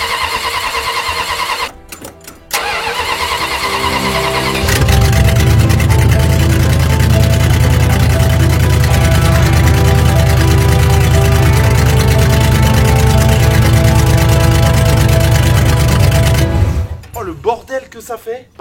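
A 1975 Chrysler New Yorker V8 is cranked with a few short bursts, then catches and runs at a loud, steady rumble for about twelve seconds before shutting off, close to the car.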